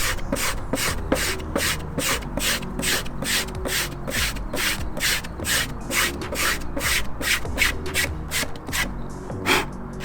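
Grip gum rubbed back and forth over skateboard grip tape to clean it, a steady run of rapid, close scratchy strokes in an even rhythm for the whole stretch, with no talking.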